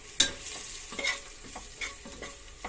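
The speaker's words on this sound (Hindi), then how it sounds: "हींग 1/4 स्पून, छोला मसाला 2 चम्मच। इन्हें डाल के अच्छे से मिक्स करेंगे।" Hing and chole masala are stirred into an Instant Pot, a run of short scraping swishes from a spoon spaced about every half second, close and moderately loud, over a faint sizzle with no voices.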